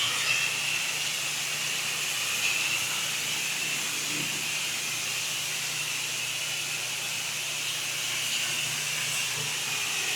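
A pressure washer sprays a house roof, giving a steady, loud broadband hiss that holds without a break throughout, with no voices heard.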